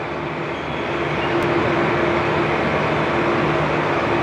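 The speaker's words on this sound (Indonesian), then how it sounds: "Dan setiap harinya ini kereta api Purwojaya membawa 9 kereta kelas eksekutif ya teman-teman." Steady, loud rumble of the Purwojaya passenger train running, heard from inside its rearmost executive-class car, a continuous roar of wheels on rails with no voices.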